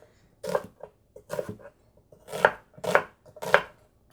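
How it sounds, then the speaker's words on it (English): A knife cutting an onion into rough chunks, with separate firm thunks on a board arriving in uneven groups and short gaps between them, close and clear with no talking. "So now I'm peacefully cutting my onion. So just some rough chunks."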